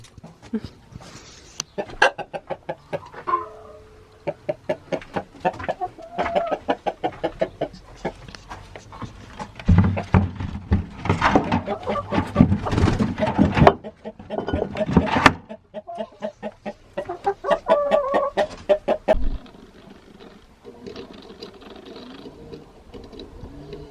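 Chickens clucking and squawking close by, irregular bursts of fowl calls mixed with mechanical rattling noises.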